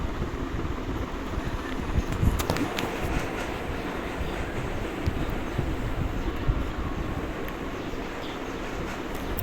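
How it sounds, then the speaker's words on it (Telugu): A train speeds past in an Indian bike 3D video game, heard as a continuous loud rumbling roar with rattling wheel noise and a brief metallic clatter, steady throughout without any talk. "దోసుకుని వెళ్ళిపోతుంది ట్రైన్."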